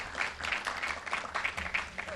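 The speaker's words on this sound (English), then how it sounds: "So a quick round of applause for Marcus." A short burst of applause from a group at a formal agreement signing ceremony, steady and moderately loud, with a few voices murmuring faintly underneath.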